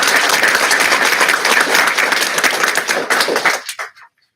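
An audience at a township school board of education reorganization meeting breaks into loud, sustained applause lasting several seconds before tapering off into a few scattered final claps and then silence.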